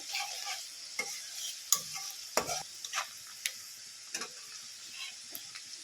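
Sliced onions frying in oil until reddish for chicken do pyaza, a quiet continuous sizzle with occasional spatula scrapes and light taps against the pan, close and fairly soft.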